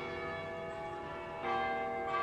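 Church bells in a southeastern Iowa community ring together in a composed bell performance, a dense, sustained wash of overlapping chimes with a fresh strike swelling louder near the end, no voices.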